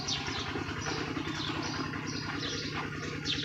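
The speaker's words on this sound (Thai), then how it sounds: "ได้ยินเสียงรถไถลุงพรตึกพอดีเลย" A tractor engine drones steadily in the background, a rumbling motor running at a constant pace with faint outdoor noise above it, near rice fields in Thailand.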